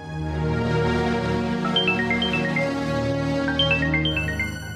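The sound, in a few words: phone ringtone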